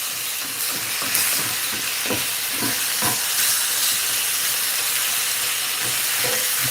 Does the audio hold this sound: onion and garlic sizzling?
yes